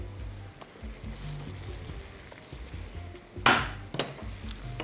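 Stirring a mixture in a pan of cooking stuffed eggplant rolls seasoned with ground black pepper and salt, with a low steady sizzle and a loud scraping clatter of utensil against the pan, then a lighter knock.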